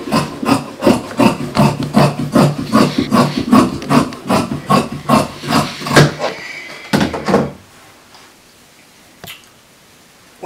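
Scissors snipping through fabric while cutting out a pencil skirt pattern piece, a steady run of close, crisp rhythmic cuts for about six seconds, then a few last snips and quiet.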